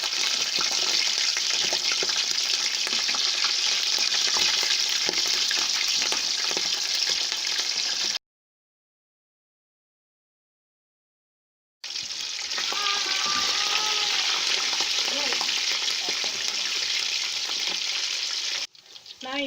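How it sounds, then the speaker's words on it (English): Loud, steady sizzling of chicken frying in hot oil for fried rice with occasional stirring, broken by a few seconds of silence before the frying resumes. "I'm going to be frying the chicken now"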